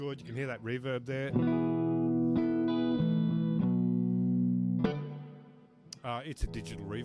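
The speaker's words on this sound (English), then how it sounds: "Good, you can hear that reverb there." Electric guitar through an Orange 35RT amp with its digital reverb rings out sustained chords that trail off in a reverb tail, with someone talking briefly at the start and end.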